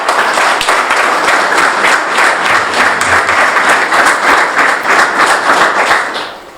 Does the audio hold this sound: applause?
yes